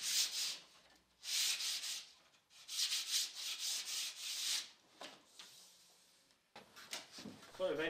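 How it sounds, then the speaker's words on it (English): Light hand sanding along the edges of a wooden aircraft wing rib, a series of soft rasping strokes in bursts with short pauses between, close and fairly quiet. "Just slightly sanding the edges"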